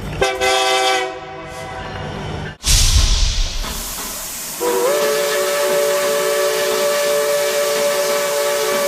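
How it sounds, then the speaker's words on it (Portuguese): A steam locomotive vents a loud rushing hiss of steam, then a sustained whistle blows and holds steady over continuing hiss, close and strong. "Solta o vapor!"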